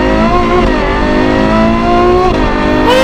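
A Novitec-tuned Ferrari 812 N-Largo S with a naturally aspirated V12 revs hard and loud, its tone climbing steadily in pitch across a continuous run, with a short dip and a fresh rise near the end.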